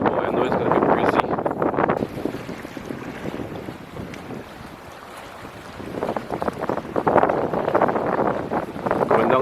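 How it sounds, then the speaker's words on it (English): Wind gusts across a river near Rosignol village in Guyana, a loud, broad rushing buffet that surges at the start, eases through the middle and swells strongly again toward the end. "I know it's gonna be breezy."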